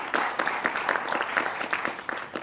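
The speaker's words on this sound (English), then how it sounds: "So let's give him a round of applause." Audience applause after an introduction at a university event, a steady patter of clapping hands held at an even level for a couple of seconds with no voices over it.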